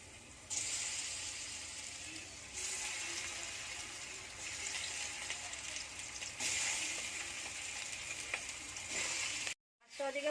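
Pangasius fish frying in a small amount of mustard oil in a hot pan, a steady close sizzle and bubbling hiss that swells and eases, running alone until a brief cut near the end.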